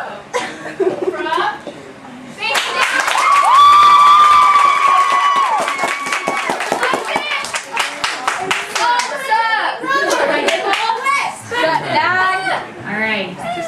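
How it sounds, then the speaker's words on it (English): An audience at a youth gathering breaks into loud, sustained clapping and cheering lasting over ten seconds, with whoops and crowd voices mixed throughout. "Big round of applause"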